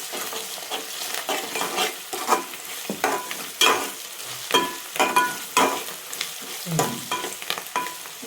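Ginger and garlic sizzle in a pan with oil as the base for a mutton curry, with a spoon or spatula scraping and stirring in repeated close strokes over the crackle.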